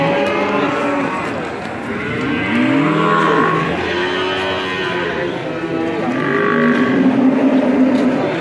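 Cattle low repeatedly at the Ambarketawang cattle market, several drawn-out moos overlapping up close amid a steady crowd murmur.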